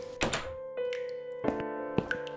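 A toilet lid shuts in the video game The Cat Lady, several dull wooden thunks spaced across a couple of seconds over soft sustained music, with no one speaking.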